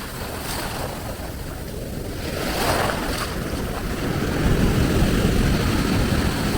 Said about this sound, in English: and some big waves as well